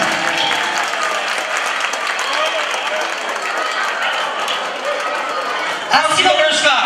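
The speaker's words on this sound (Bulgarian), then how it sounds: "Аплодисменти, аплодисменти," Dense, steady applause from a large crowd at a wedding fills the room, swelling louder near the end with shouts and cheers rising over the clapping.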